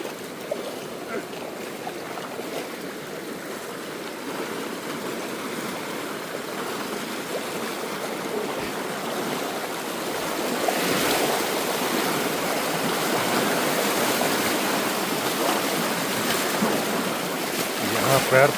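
A jungle river during a monsoon crossing rushes steadily and loudly, swelling a little toward the end, with people talking and wading in the water beneath the broad, constant roar.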